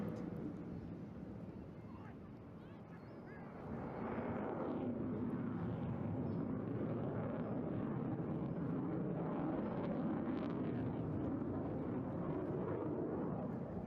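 Jet aircraft flying an air display, a broad roaring rumble that dips slightly early on, then swells and holds loud and steady as the jet runs along the display line, heard at a distance.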